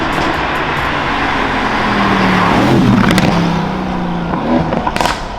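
Two twin-turbo V8 cars, a stock Mercedes-AMG GTS and a Stage 2 AMG C63S, drag racing: a loud, steady engine roar builds and holds, then eases off near the end with a few sharp bursts.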